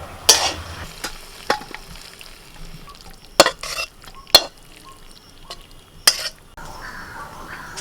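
Potatoes frying in hot oil in a home kitchen, a soft sizzle under sharp clinks and scrapes of a utensil stirring against the pan, several distinct knocks spread across the stretch.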